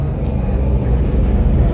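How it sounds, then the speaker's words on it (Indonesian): A deep, steady rumble fills the inside of the first Halim tunnel of the Jakarta–Bandung high-speed railway, a muffled, enclosed low roar that holds constant without a break. "agak kedap ya, dan nampak ada terdengar suara gemuruh"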